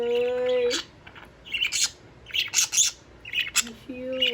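A pet budgie chirps and squawks in short, close bursts near bedtime, bright sharp calls in quick clusters, with a few sustained whistled tones and a person's voice at times.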